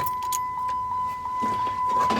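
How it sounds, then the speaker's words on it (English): Keys jangle and clink as a car key goes into the ignition of a Jeep Wrangler. The sound is close and brief, over a faint steady electronic tone. "Oh, do I have to put in the key first?"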